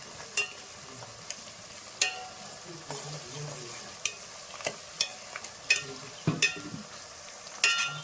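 Green chilies, curry leaves and coriander fry in a pan for country chicken curry, sizzling softly while a spoon stirs and scrapes, with sharp clicks recurring every second or so.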